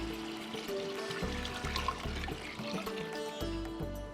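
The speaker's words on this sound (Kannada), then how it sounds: "ಈಗ 2 ಲೀಟ್ರ್ ನೀರು ಇದಕ್ಕೆ ಸೇರಿಸ್ಕೊಂಬೋಣ." Two liters of water pour into a pot holding a kilogram of rice for a vegetable bath. A quiet, continuous splash and trickle runs for a few seconds with no talking.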